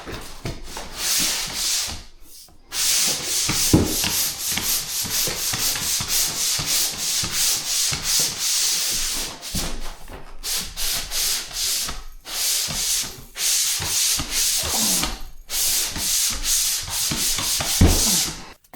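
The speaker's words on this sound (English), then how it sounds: "So there's not a whole lot to this except just getting and sanding." Drywall joint compound is sanded by hand in steady back-and-forth rasping strokes, close and continuous with brief pauses between passes and no talking.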